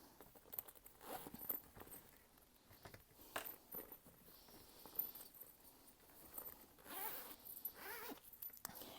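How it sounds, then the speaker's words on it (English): A zipper panel on a fabric diaper bag is slowly unzipped in short, quiet scratchy pulls, faint and close in a quiet room. "You're going to take your zipper panel, and you're going to unzip it."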